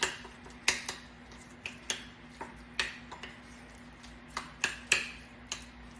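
Guacamole being mixed in a bowl, with a rhythmic series of close, sharp utensil clicks and taps against the bowl, irregularly spaced over a quiet background.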